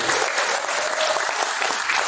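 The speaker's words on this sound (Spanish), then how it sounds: "Aplauso por Pedro grandísimo esta mañana." Steady applause from a church congregation during a Spanish-language worship service, dense even clapping filling the room at close range without pause.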